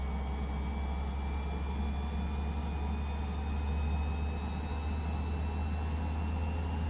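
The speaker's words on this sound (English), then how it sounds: "Damn, this plane sounds good as hell." In Microsoft Flight Simulator 2024, an airplane engine holds a constant, dense droning roar with a steady whine running through it, loud and unbroken across the whole stretch, with no voices.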